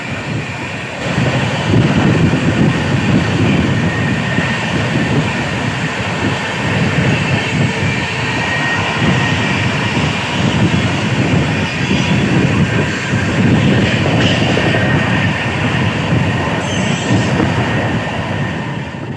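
A Vande Bharat Express passes a train at Fatehpur station on the route from New Delhi toward Varanasi, a loud continuous roar and rumble of carriages with faint rhythmic clatter, close and unbroken.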